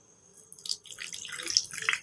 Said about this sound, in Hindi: ये पानी है इसमें हम डाल देते हैं।